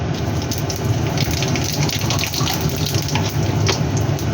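Whole cumin seeds sizzling in hot oil with heated bay leaf, for a vegetarian banana-flower curry with coconut and chickpeas, heard as a loud, steady, dense frying hiss that continues without a break and without talking.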